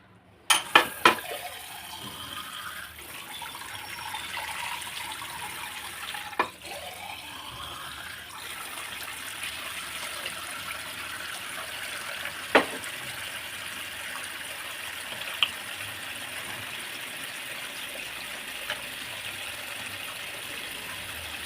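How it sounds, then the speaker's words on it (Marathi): Water poured over raw mutton trotters being washed, a steady watery splash and trickle running throughout with a few sharp knocks near the start, close and moderately quiet with no talking. "थोडंसं पाणी टाकूया आता."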